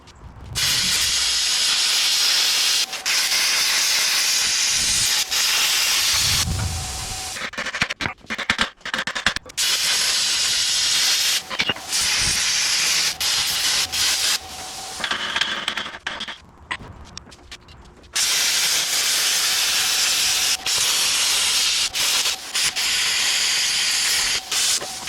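Rust being cleaned off a vehicle axle with a harsh, loud hissing abrasive blast or grinding, running in long continuous bursts broken by short pauses and stop-start sections.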